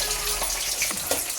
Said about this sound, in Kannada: ಫುಲ್ ಕೆಂಪು ಹುರಿಬೇಕು ಕಡಲೆಬೀಜ